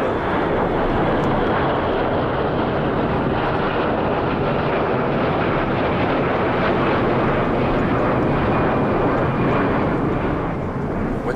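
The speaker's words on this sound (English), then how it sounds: "What is the plane bringing from Europe?" Cargo plane flying in from Europe to load fish, a loud, steady broadband engine roar sustained throughout as the aircraft passes close by, with no talk.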